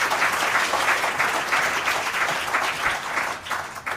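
An audience applauds a singer at a community unity gathering, a dense, steady wash of many hands clapping together at close range, sustained without a break and with no talk over it.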